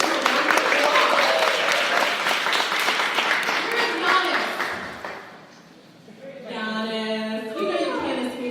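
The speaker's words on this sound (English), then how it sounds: "So let's give her a round of applause." Audience applause at a blogging event in Atlanta, loud sustained clapping for about five seconds that fades, then a brief chime-like tonal passage with a voice rising over it.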